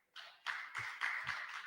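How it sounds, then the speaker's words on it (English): A conference audience claps for a presenter, several seconds of close, fairly even hand claps with a few heavier thumps mixed in. "I think we need to applaud him because he's kept to time."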